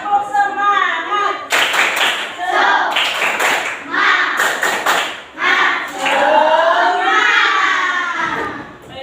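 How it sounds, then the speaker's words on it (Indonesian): A classroom of children performs a rhythmic spirit clap, loud patterned bursts of hands clapping in groups mixed with lively voices chanting along over several seconds. "Yuk, 1, 2, 3. Tepuk semangat."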